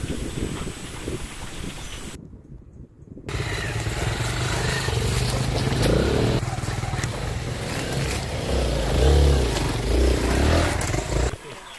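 A motorcycle engine roars steadily up close with wind buffeting, rising and falling as it rides off-road on a dry track, after a brief cut of silence near the start.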